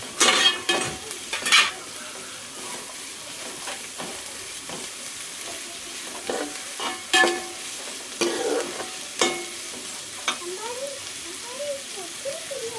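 Onions and shallots sizzle in a pan on full heat under steady frying noise, broken by repeated scrapes and clinks of a spoon stirring.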